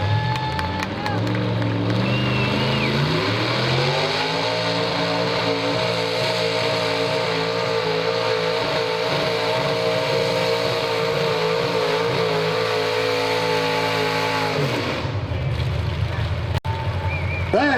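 A champion 1985 pulling tractor roars at a truck and tractor pull, its engine climbing to a loud sustained drone before dropping off as it shuts down, with an announcer talking over it.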